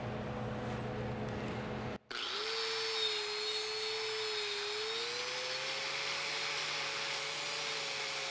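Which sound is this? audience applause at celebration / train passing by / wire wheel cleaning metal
wire wheel cleaning metal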